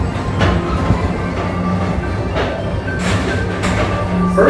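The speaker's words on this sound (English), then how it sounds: "Don't worry, your express train keeps on rolling through the future" The Tomorrowland PeopleMover ride train at Magic Kingdom rolls along its elevated track, a close, continuous rumble with rhythmic clicks and bumps, occasional brief squeals and swells of passing noise.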